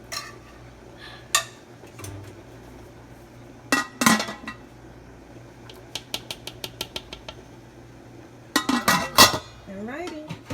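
A metal lid clanks onto a pot of chili among scattered clinks of a spoon and cookware, sharp close knocks and rattles in short bursts with quieter pauses between them.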